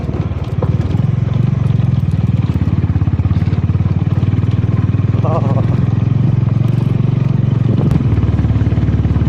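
Yezdi Scrambler or Honda H'Ness motorcycle laboring in second gear up a rough mountain road toward a high-altitude pass, its engine thumping steadily and loudly close by, with rattling and clatter over the bumps.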